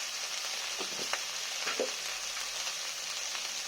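Okra frying in a pan with salt and turmeric, a steady bright sizzle with faint occasional stirring clicks, close and even, no talking.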